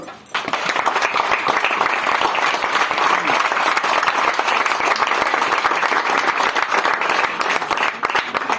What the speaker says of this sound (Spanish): En el nombre de Jesús puede aplaudir.